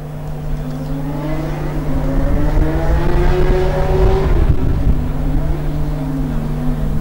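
Formula Student race car at an endurance event passing on a lap, its engine note climbing in a loud, steady drone that swells at the peak and eases slightly as it moves off, with a constant hum beneath.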